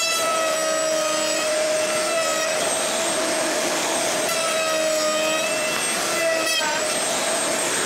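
A power saw cutting a 6 mm groove in wood gives a loud, steady, high machine whine with ringing overtones, its pitch dipping slightly as the blade takes the cut.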